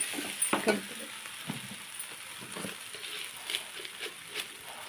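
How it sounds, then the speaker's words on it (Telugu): Onions and chilli powder are stirred and fried in a pan, giving a quiet sizzle broken by several sharp scraping strokes near the start and softer stirring after. "ఇవన్నీ ఒకసారి కలుపుకొని కొంచెం కారం వేగేదాకా"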